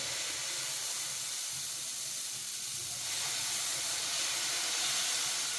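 Masala egg dosa batter poured onto a hot pan, producing a loud, steady sizzling hiss that grows slightly stronger partway through, with no talking.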